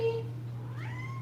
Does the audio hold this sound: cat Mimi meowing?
yes